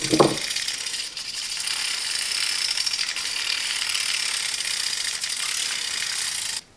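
A small electric whisk froths matcha, a steady buzzing whir close by that runs evenly for several seconds before stopping abruptly, with no talking.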